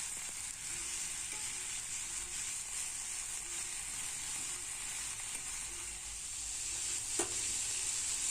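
Pumpkin leaves frying in a little oil in a wok make a steady, close sizzle throughout, with soft stirring scrapes and one brief clink near the end.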